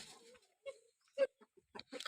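Hens in a backyard coop give a few faint, scattered short clucks and low calls with quiet gaps between them.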